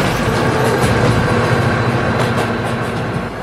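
A train rumbles past close by, a loud, dense roar of rolling wheels and rattling cars with steady clickety-clack, holding at full strength for the whole stretch without any voices.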